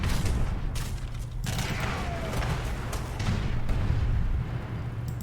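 Cannons fire repeatedly in a real-time strategy battle in Age of Empires III, dense booms and rumbling volleys layered over a continuous din of combat noise, with faint commentary underneath.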